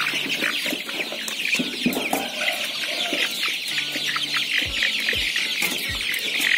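A crowd of hungry chickens gathering for feed, clucking and squawking continuously, close by and busy, with scattered higher calls over a steady flock murmur.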